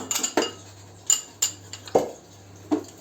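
Cake batter being whisked in a bowl while butter or margarine is poured in, heard as a handful of sharp metallic clinks and taps of the whisk against the bowl, close and separated by brief pauses.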